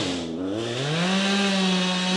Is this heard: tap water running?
no